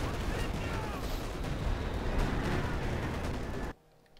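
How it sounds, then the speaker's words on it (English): Dense, continuous battlefield barrage of assault artillery shelling in the video game Company of Heroes 2, with rumbling blasts and crackling impacts overlapping loudly for several seconds before cutting off abruptly. "Assault artillery almost landed there."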